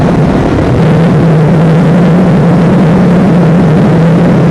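A KTM 690 SMC single-cylinder motorcycle cruising at around 80 mph, a loud, steady engine drone with a strong low hum buried in heavy rushing wind noise, unbroken for several seconds.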